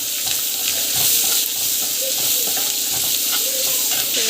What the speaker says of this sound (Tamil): ஆனியன் போட்டு நல்லா வதக்கிக்கோங்க.